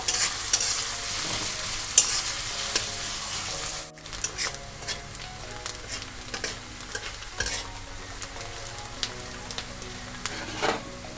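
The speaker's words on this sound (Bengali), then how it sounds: "পেঁয়াজটা এখানে হালকা নরম করে ভেজে নেবো" Chopped onion being stirred and softened in oil in a wok for egg tarka, a gentle continuous sizzle broken by scraping spatula strokes and occasional metallic taps, close and fairly quiet, no voices.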